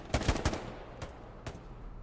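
Machine gun fire in the World War II shooter game Hell Let Loose: a quick burst of three close shots, then two more isolated shots at wider spacing against low background rumble.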